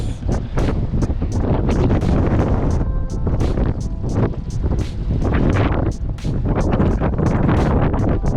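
Strong wind sweeps across a beach near a point at Whangarei, buffeting the microphone with loud, continuous gusts that rise and fall throughout, with no talking.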